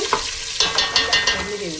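Oil heating in a cooking pot for tempering, crackling briefly with a quick series of spatula scrapes and sizzling bursts close by.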